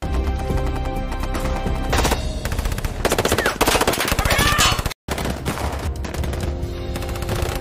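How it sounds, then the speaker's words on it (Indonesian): Rapid automatic gunfire and bursts of shots in a film shootout between mercenaries and a mafia gang, loud and continuous over dense action soundtrack, with a brief cut to silence midway. "di mana baku tembak yang masih terjadi"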